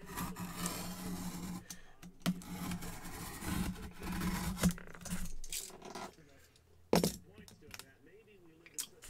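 A sealed box of 2021 Gold Rush autographed 16x20 football cards is cut open. Close scraping and rasping of the blade and cardboard run steadily, with a few sharp clicks and a sudden louder snap near the end.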